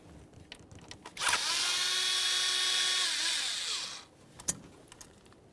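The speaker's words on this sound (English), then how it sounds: "continue on to removing our 4 T25 Torx screws that hold the ignition coil down to the" A power drill backs out the four T25 Torx screws holding the ignition coil to the valve cover of a 1998-2011 Ford Ranger 2.3L four-cylinder. It makes one steady, close whirring run of about three seconds, with light clicks before and after.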